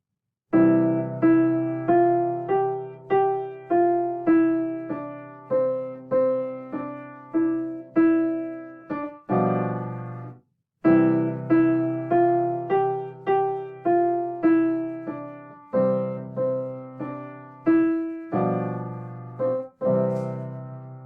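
A piano plays the Ode to Joy melody over sustained two-chord accompaniment, phrase by phrase at a steady, unhurried pace, with each note fading before the next.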